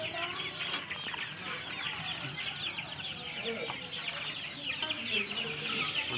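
Desi chickens cluck and squawk in a dense, continuous flock chorus across a rooftop farm holding thousands of birds, with overlapping calls at close range and a brief crow-like cry.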